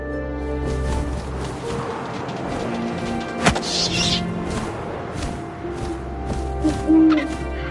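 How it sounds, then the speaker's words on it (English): Owl hooting in the What Remains of Edith Finch video game, soft hoots rising over a steady wind-like game ambience with a low droning bed, a few brief louder accents, no talking. "And suddenly, I was an owl."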